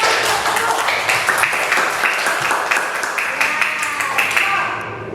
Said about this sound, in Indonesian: dari tepukan tangannya kita juga bisa menghasilkan bunyi atau nada